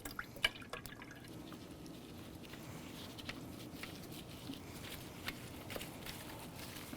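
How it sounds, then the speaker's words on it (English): Marinade liquid strained to remove the solids, dripping and pattering faintly and steadily with a few sharper drops standing out, no voices. "strain off any solids out of this marinade"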